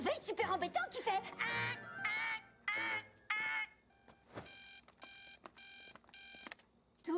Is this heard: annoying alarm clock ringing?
yes